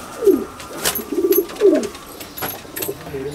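Pigeons in a loft at Falta, South 24 Parganas, give several soft throaty coos, close and clear, spaced across a few seconds with faint chirps and light background rustle.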